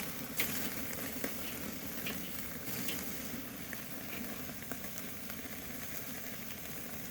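Beef tenderloin sears over a very hot one-sided charcoal fire on a slow-and-sear grill, a steady soft sizzle and crackle running throughout with a few sharper pops, fairly quiet and without speech.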